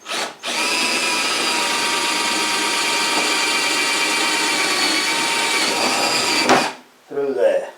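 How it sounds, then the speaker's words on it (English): A power drill boring a hole in a tractor box, a loud, steady whirring whine held for about six seconds, then cutting off; brief talk follows. "So I'll drill that one."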